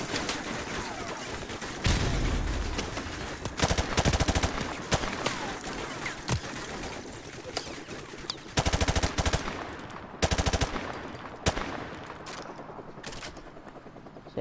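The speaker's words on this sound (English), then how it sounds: "This is probably more of a close range gun." Close-range gunfire in the Modern Warfare Remastered campaign: sharp bursts of automatic fire and single shots crack out repeatedly, loud and near, with gaps between volleys and faint ambient battlefield noise.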